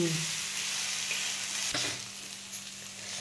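Kharda chili paste is sautéed in a pan, giving a loud, continuous sizzle with a brief scrape partway through and a small knock near the end, and no voices.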